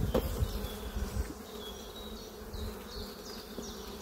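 Honeybee swarm buzzing steadily throughout while being smoked, a dense close hum of many bees with a few low thumps near the start.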